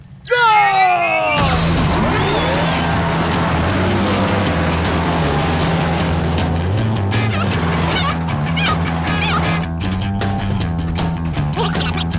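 Cartoon race cars revving and roaring off at the start of a race in Slugterra, a loud sustained engine drone with rising whines after a sudden burst, voices and music mixed in.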